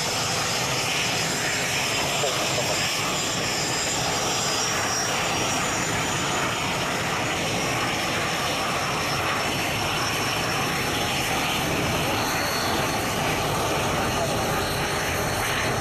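Departing aircraft at the Royal International Air Tattoo produce a continuous loud engine roar throughout, with a voice talking over it.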